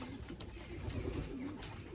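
Racing homing pigeons arriving back at their loft after a 290 km race from Morlincourt/Noyon in France, with steady close cooing and wingbeats running through the full two seconds.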